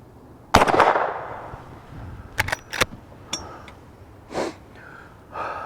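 Shots from a Henry Big Boy Classic lever-action rifle in .44 Magnum fired at targets outdoors: one loud close blast with a lingering tail, then a quick cluster of sharper cracks and scattered fainter reports.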